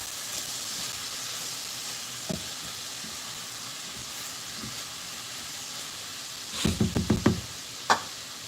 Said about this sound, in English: So with a lot of vegetables comes a lot of steam.